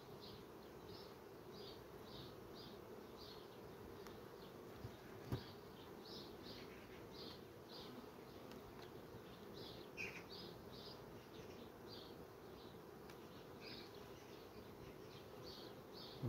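Honeybees buzz around an open hive during an inspection of queens, a steady faint drone with repeated short rising whines as individual bees fly past close by, with an occasional soft knock.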